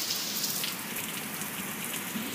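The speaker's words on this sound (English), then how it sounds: "rain's quite heavy" Heavy summer rain pours down in Britain, a dense, even hiss of drops hitting surfaces, steady and close throughout with no voices.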